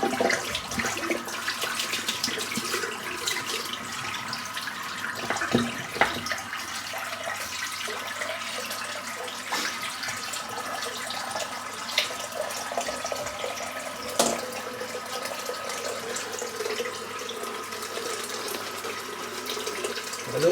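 Water and soap scum draining from a sink during a head shave, a steady rushing, gurgling flow with faint trickles and a few soft knocks throughout, close and continuous with no talk.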